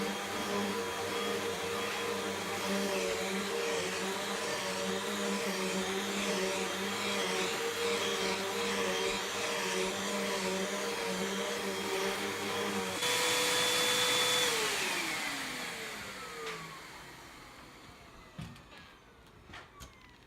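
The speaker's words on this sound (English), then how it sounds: "we'll vacuum this floor" A Hoover Whole Home Elite Pet upright vacuum cleaner runs steadily while vacuuming a floor, with a close, loud motor whine. Near the end the motor pitch drops as it powers down, leaving a few clunks.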